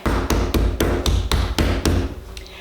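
A meat mallet pounds a raw steak of about a third of a pound, giving eight loud, evenly spaced thuds close by with no talk.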